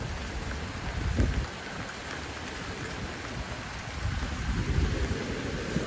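Steady rain falls in cold, windy St. Petersburg weather, a dense broadband hiss with gusts swelling and easing, heard close and alone with no talking.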